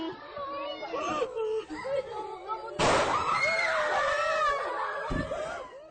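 Panicked students cry and scream amid a chaotic school shooting scene, with a sharp loud gunshot partway through and a raised wailing voice after it.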